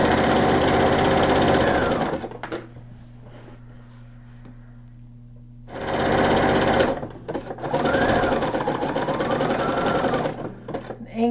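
A sewing machine runs in two bursts while stitching a nightgown: a loud, close, rapid mechanical whir that stops for a few quiet seconds, then resumes with a brief hesitation before continuing.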